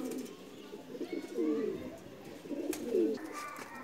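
Pakistani Chapray pigeons coo in soft, throaty repeated phrases close by, two rolling bouts a second or so apart over faint background noise.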